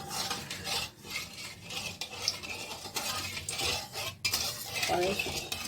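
Spices going into hot oil and ghee and stirred with a metal spoon, close scraping and clinking against the pan over a low sizzle, in irregular bursts with a few sharper taps.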